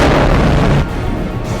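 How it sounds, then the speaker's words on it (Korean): A sudden explosion in a bamboo salt furnace during the final firing stage, when pine resin meets fire, bursts as a loud, deep boom that drops off into a rumbling tail. "이때 갑자기 울린 폭발음."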